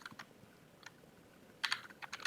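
Typing a search query into Google on a computer keyboard: a few isolated key taps, then a quick run of clicks toward the end, close-up and moderately quiet with no voices.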